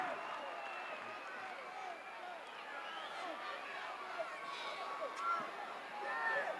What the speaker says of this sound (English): this crowd here is pro Dusty Rhodes, and they are screaming their approval of everything he does